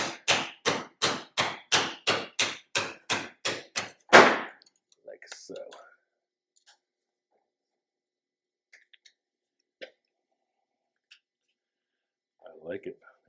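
A rubber mallet taps fabricated roof parts into place on a custom car build: about twelve evenly spaced, loud, sharp knocks in a steady rhythm, then a final thud, with scattered faint clicks and a brief murmur of talk afterward.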